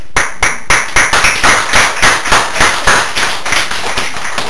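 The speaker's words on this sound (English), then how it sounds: "I'll give you all a clap myself" A single person claps at a public meeting about a Wapping Town Council proposal: loud, close, evenly spaced sharp claps, about fourteen in a row at a steady brisk rhythm, with no talking.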